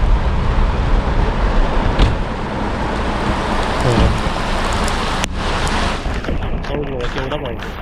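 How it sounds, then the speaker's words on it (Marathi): Heavy rain drumming on a car from inside the cabin, a dense, loud, continuous roar with a few sharp knocks and a voice speaking over it. "एवढा पाऊस आहे ना जोरात एवढा जोरात पाऊस तुम्ही फक्त बाहेर बघा"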